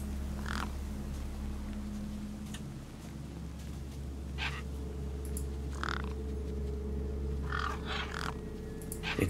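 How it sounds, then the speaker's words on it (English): Crows caw in the video game Beyond a Steel Sky, several short harsh calls scattered over a steady low ambient drone. "Gang birds were eyeing up the corpse hungrily."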